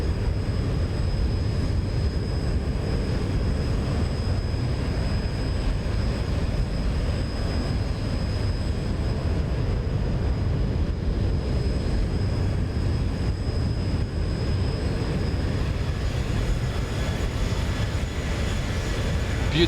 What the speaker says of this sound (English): Beautiful aircraft, 737.